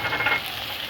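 Minced meat frying with onions and ginger garlic paste in a pan, a steady dense sizzle held close and fairly loud without pause.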